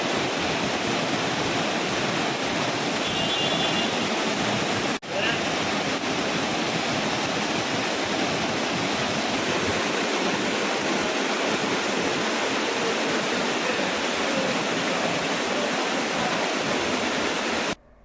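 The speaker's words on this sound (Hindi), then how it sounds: "गिर सोमनाथ में अच्छी बारिश के चलते नदी नाले उफान पर है।" Floodwater surges loudly along a swollen river in Gir Somnath after heavy rain, a steady broadband roar of rushing water with no pauses and no voices.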